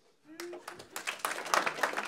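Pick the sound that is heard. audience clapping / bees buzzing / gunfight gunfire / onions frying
audience clapping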